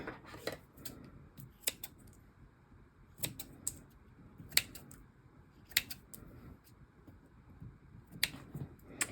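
Scissors trimming fabric for a junk journal cover, quiet crisp snips and clicks at irregular intervals, heard alone at close range.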